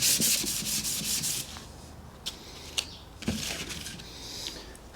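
Steel clutch plate from a ZX6R rubbed flat across a sanding block by hand, giving a loud scratchy rubbing in quick back-and-forth strokes at first, then sparser scrapes and light knocks.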